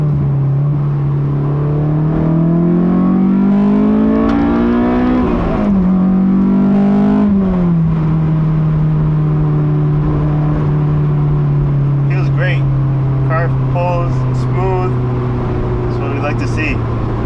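A Honda S2000's engine revs up through the gears into VTEC, its pitch climbing in repeated pulls before settling to a steady, loud drone, heard from inside the car with occasional light clicks and rattles.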